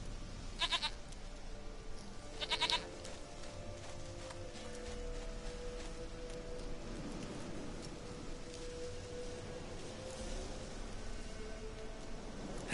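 In The Witcher 3, a goat lets out two short bleats near the start over steady rain-like ambient hiss, then the background continues without further calls.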